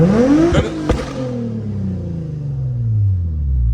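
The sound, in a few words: car engine revving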